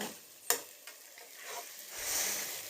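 Food sautéed in a pan, a soft sizzle with a couple of sharp utensil knocks early on and a swelling hiss toward the end, quiet and close with no talking.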